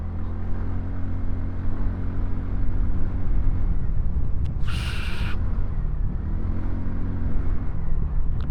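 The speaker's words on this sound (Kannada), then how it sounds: "ಆ ಗಾಡಿದು ಸೌಂಡು ಒಳ್ಳೆ ಇಂಜಿನ್ ಕರೆಂಟ್ ಒಂಥರ ಸೂಪರ್ ಆಗಿದೆ" A TVS Ntorq Race XP BS6 scooter engine hums steadily while the rider moves through traffic in Basaveshwara Nagar. The drone is low and continuous, with one brief high-pitched burst in the middle and no talk.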